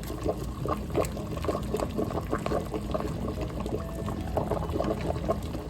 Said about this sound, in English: now we brought it back to boil